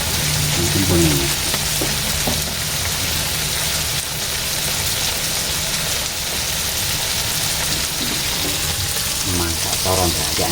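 Green chili, tomato and onion frying in a pan give a loud, steady, dense sizzle that fills the whole stretch, with a faint voice showing through briefly at moments.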